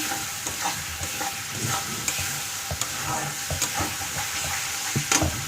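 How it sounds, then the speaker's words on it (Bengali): Spices frying in a wok are stirred steadily, a constant oily sizzle broken by repeated scraping strokes of the spoon against the metal, close and moderately loud, with no voices. "কন্টিনিউ এইভাবে নাড়াতে থাকলে বন্ধুরা মশলাটা কড়াইয়ের মধ্যে বসে থাকবে না"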